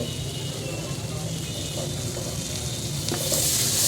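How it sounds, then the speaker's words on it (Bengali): Chicken meat cooking in a pan with turmeric, chili powder, salt, bay leaf and ginger-garlic paste gives a steady, close sizzle that grows slightly louder and brighter near the end. "এখানে মুরগির মাংস রান্না করা হচ্ছে"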